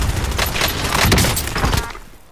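Rapid bursts of gunfire in a battle-royale style shooter game, dense and loud for about two seconds before tapering off, with no voices over it.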